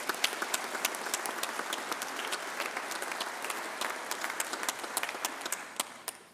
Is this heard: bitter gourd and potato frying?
no